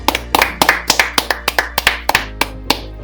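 A round of applause opening a sports talk show: about sixteen sharp, evenly spaced hand claps over three seconds, close and fairly loud, with no talking.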